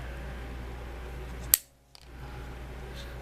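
A single sharp snip as pliers cut through a thin wooden stick, a sudden loud crack in a quiet room followed by brief silence before the low background hum returns.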